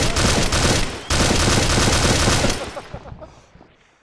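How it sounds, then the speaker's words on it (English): Rapid automatic gunfire fills the first two and a half seconds of a Wasteland video game clip as a player shoots a rabbit, dense and loud, then fades into quieter scattered sounds. "I've got to shoot this bunny rabbit before it attacks."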